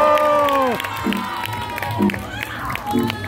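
A street audience at a Hongdae busking show cheers and claps, with shouts and short bursts of applause rising and falling around close voices.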